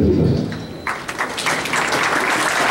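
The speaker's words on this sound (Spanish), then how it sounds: "Fuertes aplausos" A crowd applauds at a school brigade and student council swearing-in ceremony, with dense, steady clapping that swells after a brief quieter start and carries on to the end.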